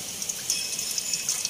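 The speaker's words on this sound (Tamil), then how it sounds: "அதில் உள்ள தண்ணி நல்லா வடிகட்டி விடணும்." Water drains and trickles from boiled goat intestines being strained while cooking kudal kulambu, a steady close splashing and dripping patter with small bursts, no talking.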